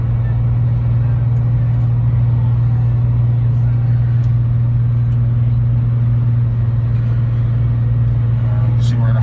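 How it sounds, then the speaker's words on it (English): A 2006 Ford F-350 pickup braking hard on a mountain grade as the transmission's torque shift engages, heard as a steady, loud low engine drone and road rumble throughout, with no clear change in pitch. "So I'm going to give it a real hard brake. And you'll see the torque shift will kick in there."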